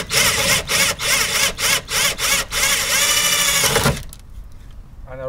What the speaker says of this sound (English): I'll start by drilling out all the rivets so I can remove the panel